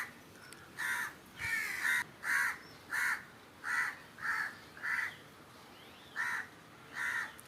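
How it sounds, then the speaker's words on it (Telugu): A crow caws near rice set out on the ground, giving about nine evenly spaced, clear caws. They are moderately close over quiet background. "కాకి కాపేసింది బియ్యం కోసం."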